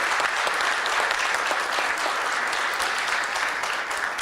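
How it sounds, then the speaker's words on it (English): An audience at an annual police department awards ceremony claps in a steady, full round of applause, many hands blending into a continuous crackle. "Let's give another round of applause for Timothy Cruz."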